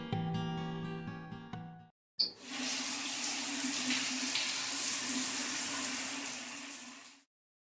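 Running shower water in a video game, a steady, hissing spray that starts abruptly after a short melodic musical phrase and a brief silence, then holds evenly before cutting off.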